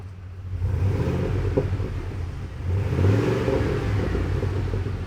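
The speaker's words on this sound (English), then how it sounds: "Yeah, let's get some revs, dude." Ford Super Duty pickup, 6.2L or 7.3L, fitted with an MBRP 4-inch single cat-back exhaust, rumbling at idle then revved twice, each throttle blip swelling into a louder close-up roar before settling.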